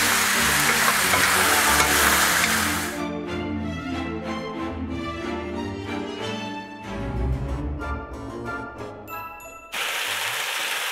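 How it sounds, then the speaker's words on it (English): Chicken, beef and zucchini sizzle in a stir-fry pan, a loud hiss that drops away and returns, with clinking utensils and a bright ding in between. "Because the meat itself has some juice, so you start hearing sizzling."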